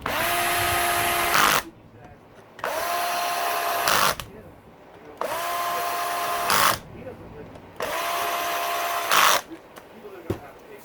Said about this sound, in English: I'm just taking the time now to cinch down the rest of the case bolts.